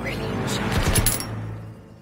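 Gunfire in the World War II shooter Call of Duty: WWII, a cluster of sharp shots and echoing crackle amid battlefield noise, with a voice speaking over the combat.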